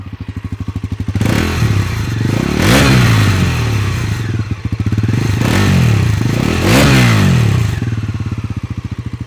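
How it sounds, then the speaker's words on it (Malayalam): A Bajaj Pulsar NS400Z motorcycle idles close by, then its exhaust is revved sharply twice, each blip swelling into a loud, rasping roar before falling back to a throbbing idle, with no voices. "ഇതിൻ്റെ എക്സോസ്റ്റ് നോട്ട് നിങ്ങൾ കേട്ടോളിക്കോളി"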